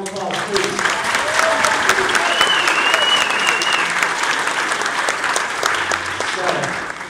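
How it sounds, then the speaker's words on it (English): Crowd at a Diamond Dash grand prize event applauding as a presenter comes up to give away a ring, sustained loud clapping with a few cheers and voices woven through it. "Everyone give her a round of applause, please."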